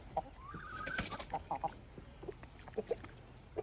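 Chickens cluck in short, soft bursts nearby while eating fermented feed, with a brief higher call partway through, over a busy low background.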